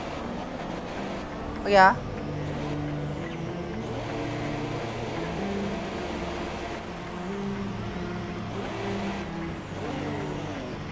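Formula 1 car engine in the racing video game F1 2017, high whining revs rising and falling repeatedly as the car accelerates, with a brief spoken exclamation near the start.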